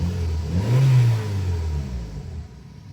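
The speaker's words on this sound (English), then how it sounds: "Engine purrs" A car engine with recent welding work runs steadily nearby, a low rumble that swells briefly as it revs, then settles back to an even hum.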